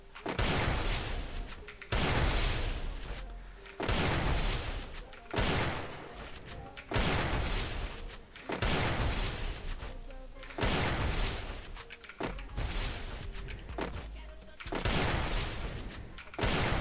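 Gunfire in the Free Fire video game, one-shot weapons in a training match, sounding as a run of loud, heavy blasts spaced about every two seconds, each with a booming tail.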